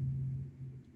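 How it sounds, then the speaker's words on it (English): A low, steady motorcycle engine rumble holds throughout, loud and close, with a constant deep hum and no other sounds. "I thought that was a thunder, but that's actually my neighbor's motorcycle."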